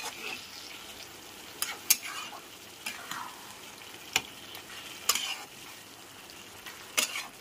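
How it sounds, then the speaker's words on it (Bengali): Chicken pieces coated in whisked sour yogurt fry in a pan over a medium flame for a korma, a soft steady sizzle broken by several sharp scrapes and clicks of stirring, close and alone with no talk. "টক দইটা দেওয়ার পরও খুব ভালো করে আরেকবার কষিয়ে নিতে হবে।"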